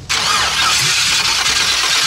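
A Ford Mustang with a swapped-in LS V8 cranks and fires, settling into a loud, rough, continuous engine roar close up with no talking.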